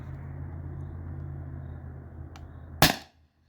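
A single sharp shot from a Beeman BP50 air pistol firing a rubber steel ball, a short loud crack standing out near the end over a steady low hum.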